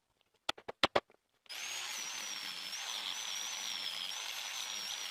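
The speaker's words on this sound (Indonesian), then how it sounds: "Proses penghalusan dengan amplas merah ini dilakukan pada bagian luar yang bisa dijangkau saja." A few sharp clicks are followed by a power tool starting up and running steadily with a high whine as red sandpaper smooths a rusty object, close and constant with no talk.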